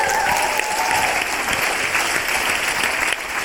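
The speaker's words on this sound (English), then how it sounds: "So can we just give a round of applause one more time?" Sustained audience applause fills a hip-hop 50th anniversary event hall, a dense, steady wash of many hands clapping with crowd noise and a faint voice early on.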